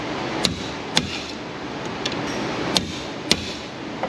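A pry hammer strikes a metal dust shield on a Ford Ranger XLT 3.0 4x4: five or six sharp, isolated metallic taps spaced about half a second to a second apart, close over a steady background hum.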